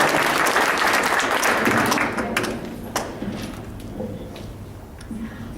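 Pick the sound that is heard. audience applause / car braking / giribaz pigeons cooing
audience applause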